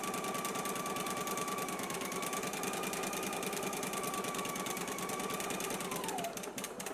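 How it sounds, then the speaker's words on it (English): A sewing machine runs a zigzag stitch along a 5/8-inch seam on a yoke, a steady fast mechanical whir with a dense even rhythm that continues alone at close range, then slows and winds down at the end. "I'm going to be stitching this using a zigzag stitch"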